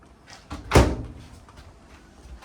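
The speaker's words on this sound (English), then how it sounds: "Here again, you got your door that opens up." Cabinet door in a 2026 Rockwood Signature 8265KBS travel trailer swinging open, a single soft knock and brief thud rising out of quiet room tone, close and short.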